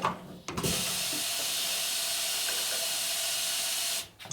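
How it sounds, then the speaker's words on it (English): Die grinder running continuously on the combustion chamber of a 1992 Harley Evo 80ci cylinder head, giving a loud, steady high-pitched hissing whir for about three and a half seconds between brief spin-up and spin-down. "Do that with a die grinder."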